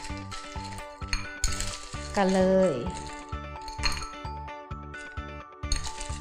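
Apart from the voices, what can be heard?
ice cubes being added to a bowl of mangosteen in syrup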